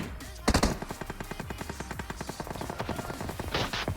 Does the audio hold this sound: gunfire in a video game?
yes